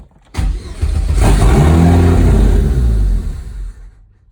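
A car engine turns over and catches, then runs loud and rough for about three seconds before dying away, recorded up close. The car starts but will not idle.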